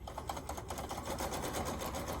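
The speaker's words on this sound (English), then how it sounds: "Use the presser foot guide as your guide, and just sew down the side." Sewing machine joining quilt rows with sashing strips, running steadily and close with a fast, even mechanical whir and no pauses or voices.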